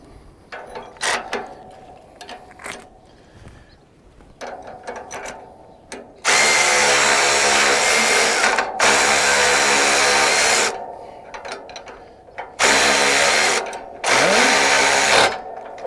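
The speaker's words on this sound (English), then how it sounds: "all we got to do is get our bolt in here and tightened up on both sides" A power drill tightens a bolt on both sides of a metal table base, with several loud sustained whirring runs separated by pauses filled with clanks and handling noise, close and dominant.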